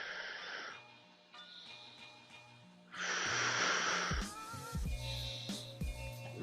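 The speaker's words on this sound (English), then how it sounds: "Big deep breaths." Heavy breathing during an exercise routine, deep rough inhales and exhales with wheezy, snorting edges, repeated several times close to the listener.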